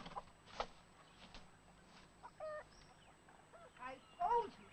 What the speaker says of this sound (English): I told you to keep them chickens out of here.